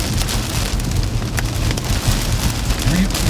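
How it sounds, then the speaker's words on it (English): Hail pelts down during a storm chase through Midwest supercells near Lake Mills, a loud, dense, continuous drumming with scattered sharper hits and a deep rumble underneath. "The largest hail."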